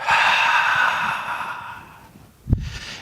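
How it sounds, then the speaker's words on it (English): A forceful exhale of breath blown out of the lungs during a yoga breathing exercise, a long airy rush that fades out, followed by a short sharp breath near the end. "So whatever you have in your lungs, go ahead and just blow it out."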